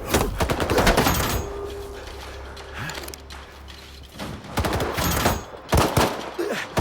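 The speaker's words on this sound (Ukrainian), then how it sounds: "Чому по нас стріляють?" Bursts of rapid gunfire in the video game S.T.A.L.K.E.R. 2: Heart of Chornobyl crackle in loud clusters, with mechanical clanks and a low hum between volleys.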